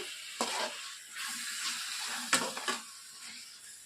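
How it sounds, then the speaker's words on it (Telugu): Tomatoes and green chillies frying in a pan for Hyderabadi chicken biryani, a quiet steady sizzle broken by a few sharp stirring scrapes and clatters. "కట్ చేసి పెట్టుకున్నటువంటి పచ్చిమిర్చి, టమోటాలను కూడా వేసేసి టమోటాలు మెత్తబడే వరకు బాగా ఫ్రై చేసుకోండి."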